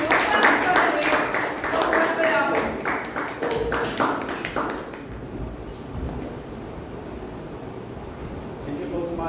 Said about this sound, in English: With a huge round of applause, please welcome Toastmasters